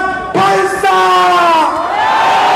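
A big crowd cheers and shouts at an outdoor patriotic rally in front of Daehanmun, waving Taegeukgi flags, a loud sustained roar of many voices with whoops rising over it.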